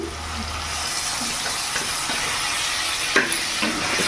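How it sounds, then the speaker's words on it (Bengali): Mushrooms with chili sauce and vinegar sizzle steadily in a pan on a gas stove while being stirred, with soft scraping and clinks over an even frying hiss. "নাড়াচাড়া করে নিই।"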